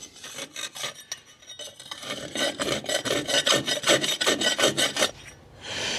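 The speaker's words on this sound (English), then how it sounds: "Using a half round file." Steady hand filing with a half round file on a welded exhaust part for a Jaguar XK8, strokes coming in a quickening rhythm of close, crisp rasps that grow louder and more regular.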